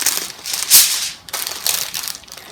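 Aluminum foil and parchment being folded into a cooking bag for gnocchi make loud, close crinkling and crushing in two main bursts, with one sharp crackle standing out, and no speech.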